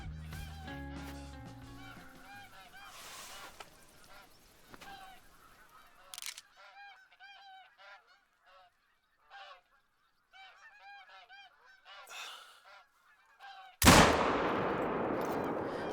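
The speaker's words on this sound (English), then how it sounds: "I took the shot." A break-action rifle fires a single loud, sharp shot with a fading tail in theHunter: Call of the Wild on the Hirschfelden map, coming after a stretch of scattered goose honks and bird calls.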